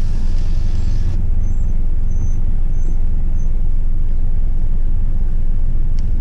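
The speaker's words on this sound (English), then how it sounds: "I think my brakes are squeaking." Several high, thin brake squeals pierce a steady low traffic rumble, with vehicles idling and moving nearby.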